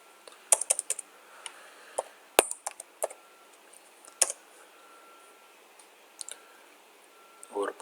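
Keyboard typing while working in AutoCAD Civil 3D: scattered sharp key clicks in short irregular bursts, close and moderately loud, with gaps of near silence between.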